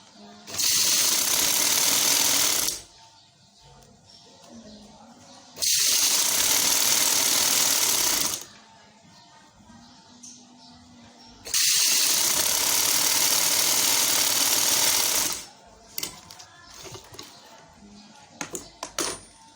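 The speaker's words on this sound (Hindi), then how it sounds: "बिल्कुल किनारे किनारे पे सिलाई आनी चाहिए" A sewing machine stitching along the edge of a frock sleeve, running in three steady, loud bursts of a few seconds each, with short pauses and small handling clicks between them.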